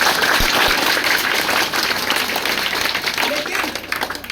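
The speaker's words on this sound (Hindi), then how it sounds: "जोरदार ताली होनी चाहिए" Audience at a motivational session for children breaks into loud applause, many hands clapping vigorously at first and then gradually thinning and fading toward the end, with some voices mixed in.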